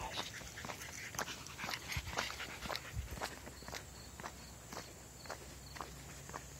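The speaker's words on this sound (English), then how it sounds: "There's some doggies." Footsteps walking steadily down a steep hill outdoors, a crisp close rhythmic crunch, with dogs nearby making occasional sounds in the background.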